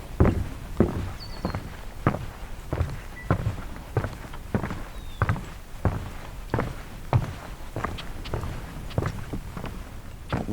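Steady footsteps walk along an uneven, tilting trail on the Beaver Meadows Loop, each step a distinct crunching thud at a regular pace, about a dozen close, clear steps.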